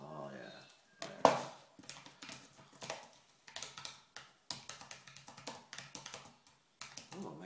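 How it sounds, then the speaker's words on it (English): Typing on an Apple keyboard fitted with wooden keys: rapid, close clicking keystrokes in uneven bursts with short pauses, a louder clack early on, and quiet talk at the start. "we have an Apple keyboard with wooden keys"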